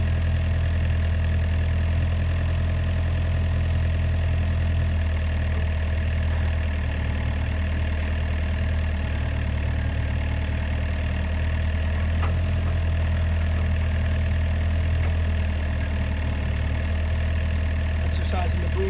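An excavator engine idling steadily while the boom, stick and bucket hydraulic cylinders are worked, a constant low diesel drone with faint mechanical clicks, heard continuously under someone talking.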